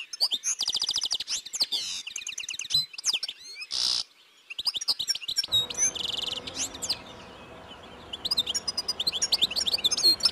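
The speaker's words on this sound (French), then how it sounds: "L'appel clair et tintant du chardonneret accompagne ses déplacements et le signale partout où il apparaît." European goldfinches give clear, tinkling twittering calls and chattering song in Côtes d'Armor, several birds calling close by in quick, bright runs with brief pauses.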